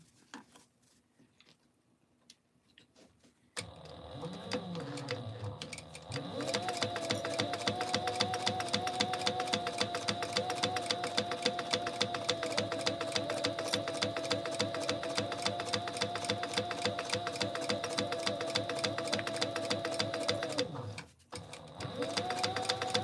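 A domestic sewing machine runs steadily for about fifteen seconds, topstitching a small Mini Scout bag in a sew-along. It makes a loud, even mechanical whir with a fast needle rhythm, then stops abruptly with brief handling noise before and after.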